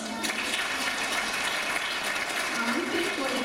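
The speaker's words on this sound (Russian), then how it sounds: "Эти аплодисменты вам!" Audience applause in a concert hall during a Cossack-themed city gala concert and awards ceremony, a dense, even roar of clapping that is fairly distant and soft and holds steady throughout.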